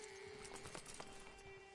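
Horse hooves clip-clopping in Red Dead Redemption 2, a few faint irregular hoof knocks over a steady background hum, quiet and somewhat distant.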